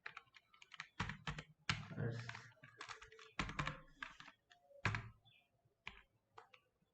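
Rapid bursts of keystrokes on a computer keyboard while Java code is entered, irregular clusters of close clicks with short pauses between runs.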